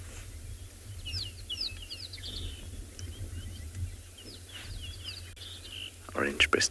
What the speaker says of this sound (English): You can hear the buzzing of a golden-breasted bunting